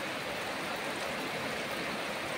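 Unbroken heavy rain, windless and free of thunder, pours down in a loud, even wash of drops close by, holding steady throughout.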